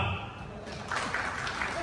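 An audience at a plumbers' meeting in a hotel bursts into clapping that swells in the second half, a dense patter of many hands close by.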